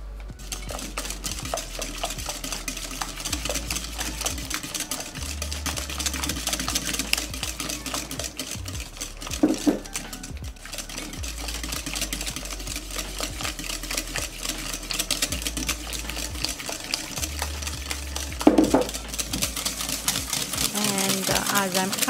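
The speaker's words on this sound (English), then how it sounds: "Start adding oil gradually and continue to mix." Carrot cake batter being mixed as oil is gradually added, a steady whirring, rattling mixer drone running continuously with a couple of brief louder clatters, over quiet background music.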